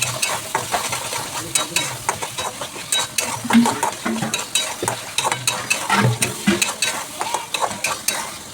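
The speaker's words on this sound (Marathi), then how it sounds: "आणि आपण चांगला मसाला हा परतून घेऊया" Prawn curry masala with biryani masala powder and coriander stir-fried in a pan: steady close sizzling broken by a quick run of spoon scrapes and clinks against the metal, with no one talking.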